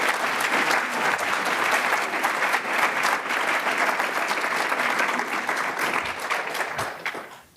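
An audience at the Celebrating Voices 2018 event applauds steadily as a parent speaker is welcomed to the stage, the clapping full and even before fading out at the end.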